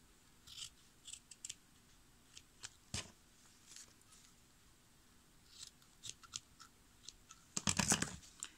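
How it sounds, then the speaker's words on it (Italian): Scissors trimming fabric down to the width of a zipper, a string of close, sharp snips spaced irregularly, ending in a quick flurry of cuts, with no speech over them. "andiamo a rifilare il tessuto quindi lo portiamo alla stessa misura di larghezza della nostra cerniera"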